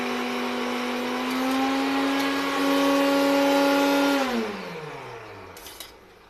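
A kitchen mixer grinder whirs steadily at close range with a strong motor hum, then spins down with a falling pitch as it is switched off, leaving near silence before a faint click.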